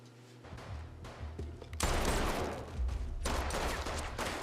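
Gunfire erupts in a Fear The Walking Dead scene, rapid sharp shots in bursts that grow into a loud, dense volley after a quieter opening.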